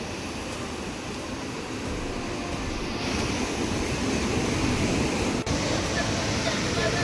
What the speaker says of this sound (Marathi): जास्त जोर आला आहे, म्हणजे जास्तच लाटा उसळत आहेत